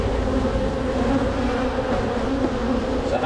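Honey bees swarm around an open hive during a honey harvest, producing a dense, continuous, close buzzing drone.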